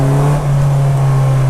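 A 2017 Polaris Slingshot SL pulls away hard from a green light, its engine holding a loud, close, steady drone for a brief moment.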